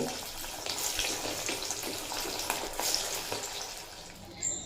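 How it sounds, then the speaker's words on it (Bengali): Jackfruit pakoras deep-frying in oil, a steady bubbling sizzle with soft crackles, fairly quiet and without talk. "ওই একইভাবেই সব কটা পাকোড়া ভেজে নেব"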